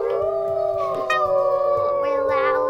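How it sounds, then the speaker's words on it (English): Wolves howl together in the video game WolfQuest, a loud sustained chorus of long, wavering tones that overlap and rise at the end, with no talking over them. "we howl to assert dominance."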